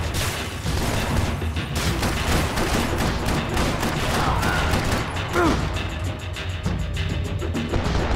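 Sustained gunfire in the Max Payne 3 video game, a steady stream of rapid shots and impacts across several seconds at a fairly even loudness, with occasional crashing, ricocheting effects.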